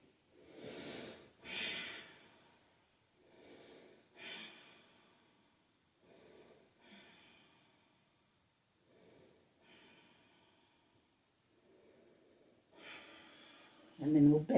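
Deep, audible yoga breaths drawn in and pushed out during a hold in Chaturanga Dandasana, a series of breathy rushes with short pauses between them, close and fairly quiet, with a louder burst at the very end.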